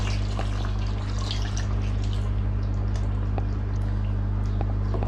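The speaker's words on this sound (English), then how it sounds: "When the oil starts to separate from the chicken, we add 1 glass of warm water." A glass of warm water poured into a pot of chicken curry as the oil separates, a steady splashing and dripping against constant kitchen hum, unbroken for about five seconds without speech.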